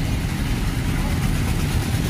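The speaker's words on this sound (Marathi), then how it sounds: "रिक्षा," An auto rickshaw engine idles close by with a steady, low, throbbing rumble that holds evenly for the whole short stretch.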